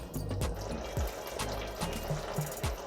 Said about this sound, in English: let this simmer for 5 minutes